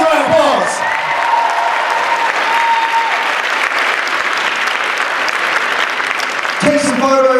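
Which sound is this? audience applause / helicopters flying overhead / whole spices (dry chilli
audience applause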